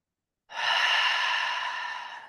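A single long, deep breath drawn steadily for about two seconds during a guided breathing exercise, close and clear, with no talking over it.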